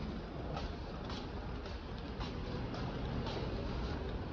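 A metro train rumbles inside a Singapore station near Outram Park, a continuous broad roar with faint rhythmic clacks, steady and fairly distant.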